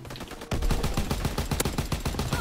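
A Bren light machine gun fires a rapid, sustained burst of loud, close automatic shots in a Call of Duty: WW2 multiplayer match, continuous rattling with no pauses.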